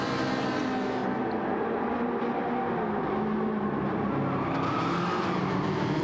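Race cars including a Ferrari lapping Suzuka in Gran Turismo 7, a continuous loud engine drone with shifting pitch as cars pass and rev.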